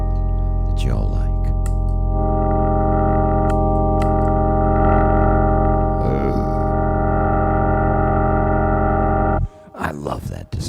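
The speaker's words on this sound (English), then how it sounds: "I love that distortion." A sustained electric guitar chord, heavily distorted through a distortion pedal, rings out loud and steady, with bends and swells, then cuts off abruptly near the end into a few short rough notes.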